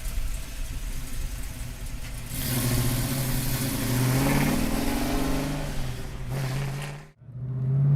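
A 1969 Chevrolet Camaro convertible's engine rumbles and revs up as the car drives off, rising in pitch, then dips and cuts abruptly near the end.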